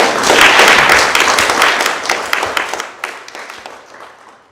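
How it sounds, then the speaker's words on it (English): An audience in a room applauds guests, a dense burst of many hands clapping that starts loud and full and then thins to scattered claps as it fades out. "Could we give a round of applause?"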